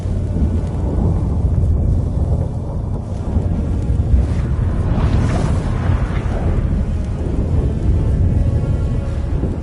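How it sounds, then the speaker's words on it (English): A thunderstorm in The Witcher 3 video game roars with deep, rolling thunder and rushing wind, loud and continuous, swelling into a heavier rumble midway. "That a storm?"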